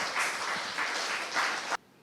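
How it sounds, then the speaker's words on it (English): A brief burst of audience applause at a gathering honouring the Nigerian media, moderately loud and steady, then cutting off abruptly after under two seconds. "the Nigerian media deserves even a bigger round of applause"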